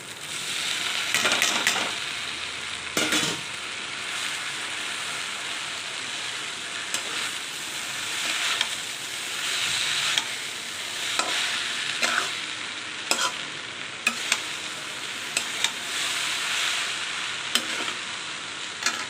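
Egg Maggi noodles sizzle in a pan while a utensil stirs and scrapes through them, a steady frying hiss broken by repeated clinks and scrapes, close by, with no talking.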